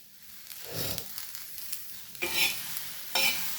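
Okra, or ladies finger, being stirred and fried in a pan, with soft scraping bursts of the spatula over a gentle sizzle, fairly quiet and close, with no talking.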